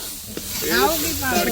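Spices crackle and sizzle in hot oil, a steady hiss rising midway, with a voice murmuring faintly underneath.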